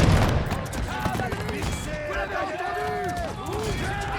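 Massed musket volleys crackle in a dense, continuous fusillade during a France versus England battle in the strategy game Rise of Empires, with distant shouting and battle noise layered underneath.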